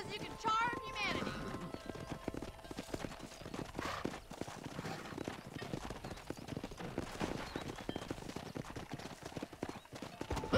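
Rhythmic horse hooves clip-clopping in Red Dead Redemption, with a whinny near the start, while people talk over the steady riding.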